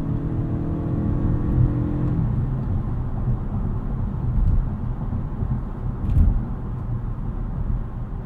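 A 2022 Toyota Camry Hybrid accelerates hard enough to spin its wheels, a loud steady engine whir and road rumble heard from close inside, with a falling tone early on and brief swells, no voices.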